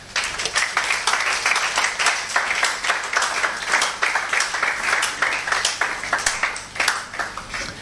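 A church congregation applauds with rhythmic, fairly loud clapping that runs steadily for several seconds at medium distance, with a few voices faintly audible underneath.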